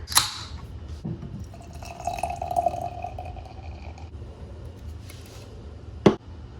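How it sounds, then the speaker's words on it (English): A can of Clown Shoes IPA beer gives a sharp crack at the start, followed by liquid trickling and pouring for several seconds, then another sharp clink near the end. "But let's crack this one open."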